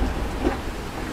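A brief, loud rumble of thunder follows a lightning strike, mixed with a steady hiss of rain and no voices.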